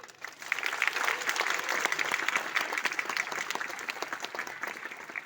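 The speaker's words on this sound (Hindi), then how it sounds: "तो एक बार जोरदार तालियां हो जाए जिन लोगों ने आपको यहाँ पे इनवाइट किया" An audience at a DXN gathering gives loud, sustained applause, many hands clapping together in a thick, even wash that swells quickly and holds steady.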